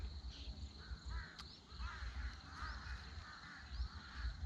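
Crows caw repeatedly at a distance in the early morning, with harsh calls spaced out over a low outdoor rumble and a faint steady insect hum.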